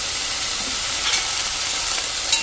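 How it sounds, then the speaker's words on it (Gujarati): Broccoli sizzles in butter while being stirred, giving a steady, loud hiss of frying with faint scraping touches from the stirring. "અને એને આપણે બટરમાં આ રીતે એકાદ મિનિટ આ રીતે મિક્સ કરીને હલાવી લેશું"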